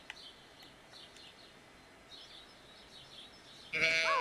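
A sheep bleats once near the end in a farming video game, a loud sudden cry after quieter bird-like chirps over soft background ambience.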